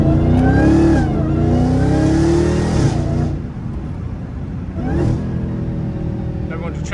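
Dodge Hellcat Redeye on a country road pulling hard with a loud rising rev, then easing off into a lower drone, with a voice talking throughout.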